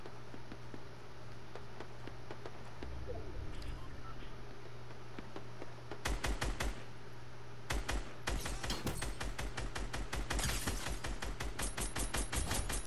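Rapid bursts of gunfire in the video game Fortnite crackle in clustered volleys, sparse at first and then dense and repeated, with a low steady hum beneath.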